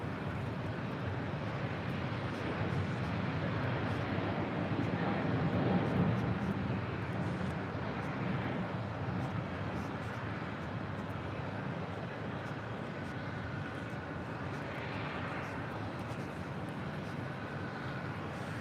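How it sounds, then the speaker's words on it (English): A Delta Airlines A350-900 jet airliner on Flight 41 to Sydney rumbles at LAX as a steady, distant, faint broadband roar that holds evenly throughout, with wind noise on the microphone. "Delta Airlines Flight 41 heading to Sydney."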